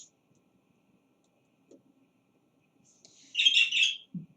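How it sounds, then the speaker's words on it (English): A pet bird indoors gives a short burst of bright, high chirps and tweets near the end, following mostly quiet room tone with a few faint soft knocks. "You're going to hear the bird a little bit."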